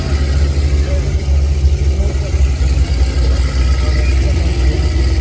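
A twin-turbo BMW M5 with intakes and downpipe, at a Middle East drag racing car show, gives a steady loud low engine rumble with revving throughout, under crowd noise and voices.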